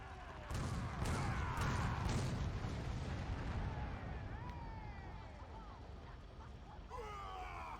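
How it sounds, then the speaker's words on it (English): A cannon fires in the video game Warhammer Online: Return of Reckoning, booming blasts thudding in quick succession at the start before fading into a lower rumble of battle noise. "Use that fucking cannon."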